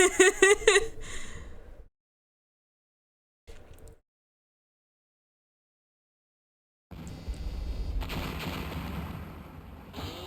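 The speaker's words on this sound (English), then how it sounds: "What was that sound? It sounded like an explosion." Explosion sound in the horror video game Hellnight, a loud burst of rumbling noise that erupts after near silence and sustains with a deep roar, following earlier brief sounds.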